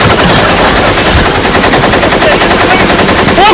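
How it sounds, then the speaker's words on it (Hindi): Machine gun fire rattles in a loud, continuous rapid burst lasting several seconds, dense and close with no pauses or voices. "वो गोलियां चल गई"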